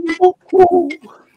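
A bird gives a soft, hollow cooing call somewhere between a cuckoo and a dove, three or four short rounded notes, close and clear in a quiet setting.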